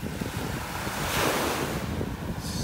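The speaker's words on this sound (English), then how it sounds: "These waves are really mixing things up here." Surf rolling onto a beach at North Naples, Florida, a continuous wash of breaking waves mixed with heavy wind buffeting the microphone.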